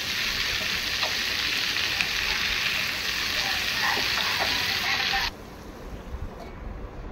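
Prawns frying in oil in a pan with a lid on over a low flame, a steady dense sizzle that runs loud and unbroken for about five seconds, then drops to a faint crackle.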